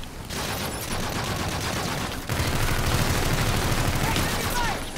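Sustained gunfire rattles through a Call of Duty: Infinite Warfare campaign firefight, dense bursts of automatic fire and explosions filling the whole stretch loudly, growing heavier midway, with voices mixed in.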